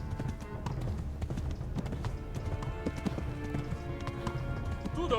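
Rapid, steady hoofbeats of a galloping horse in the video game Kingdom Come: Deliverance, continuous and fairly close, with a soft background layer.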